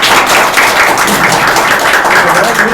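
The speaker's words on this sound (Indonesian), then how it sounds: "Tepuk tangan dulu teman-teman." Audience applause, a loud, dense, continuous wash of clapping that fills the whole stretch evenly, with faint voices mixed in.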